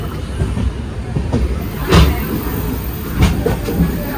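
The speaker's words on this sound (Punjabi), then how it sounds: "ਹਰਦਵਾਰ ਤੋਂ ਟ੍ਰੇਨ ਚੱਲ ਪਈ ਸਾਡੀ" A train leaving Haridwar station for Rishikesh rolls along the tracks with a steady rumble, rhythmic clacks and a few sharper bursts of wheel noise.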